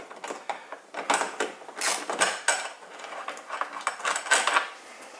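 Bolts being removed from the license plate mounting bracket of a KTM 1190 motorcycle: close metallic ratcheting, clicks and tool clatter in quick irregular bursts, with no talking.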